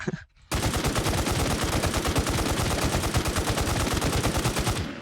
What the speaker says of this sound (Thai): แล้วเสียงปืนโคตรดัง